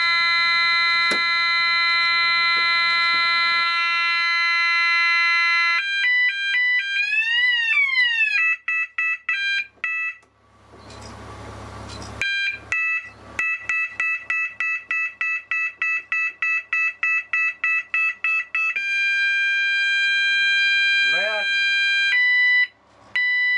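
An e2s warning signal sounder steps through its tone settings: steady high tones, warbling sweeps, a rapid pulsing beep series and rising whoops, each loud and close, changing abruptly from one pattern to the next with a brief noisy gap midway.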